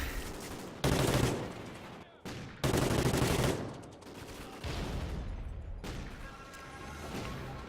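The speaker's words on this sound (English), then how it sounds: "Why can you not just die when I shoot you?" Gunfire in a shooter video game: loud, sustained automatic bursts broken by short pauses, with a talking voice mixed in among the shots.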